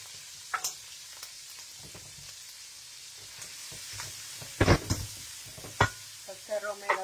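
Offal, potato and peppers frying as a sofrito for frito mallorquín, a steady sizzle in the pan broken by several louder stirring scrapes and clatters close by.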